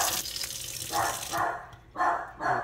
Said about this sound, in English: And of course the dog's gonna bark now.